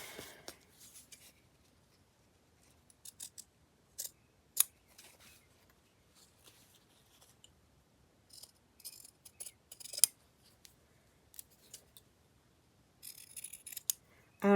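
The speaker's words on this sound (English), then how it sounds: "pinking shears." Pinking shears cut through paper in a quiet room, giving sparse, crisp snips in short irregular bursts separated by pauses.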